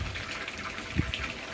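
Water gushes and splashes steadily from an aquaponics bell siphon draining a grow bed, a continuous close rushing flow with a brief louder gurgle partway through and no voices.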